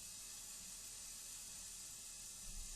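Steady hissing of steam escaping from a heating system, a constant broadband rush with a faint low rumble beneath, continuous and unbroken throughout.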